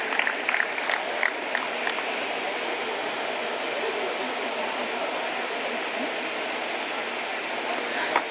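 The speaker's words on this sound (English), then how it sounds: "A lot of congratulations and a lot of claps, please." Audience applause at a literary festival event, a steady wash of many hands clapping at moderate distance, with a few sharper claps early on and an even roar throughout.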